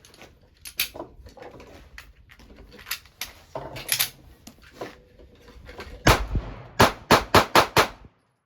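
A Sig Sauer P365 pistol fires at a range, starting with scattered shots and quieter handling sounds, then ending in a loud rapid string of five or six sharp close reports.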